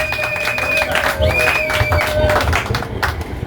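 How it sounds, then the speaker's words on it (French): Audience at a political support rally applauding, scattered clapping and crowd noise with brief cheering and a few voices mixed in, moderately loud and somewhat distant. "Est-ce que nous pouvons l'applaudir pour ça?"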